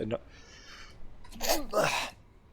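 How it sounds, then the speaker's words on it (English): A single sudden sneeze erupts close to the microphone, preceded by a brief intake of breath and a short muffled sound. "sorry about that, just had to sneeze"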